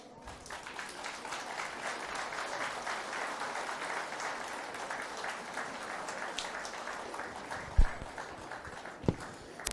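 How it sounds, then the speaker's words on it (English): An audience at a school golden jubilee celebration gives a sustained round of applause, a thick continuous clatter of many hands, with a few louder sharp claps standing out near the end. "let's all give a round of applause"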